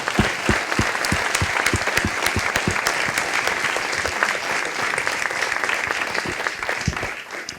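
Applause from the audience at a student and work-study graduates' ceremony, a crowd clapping steadily with many sharp individual claps standing out close by, continuous throughout.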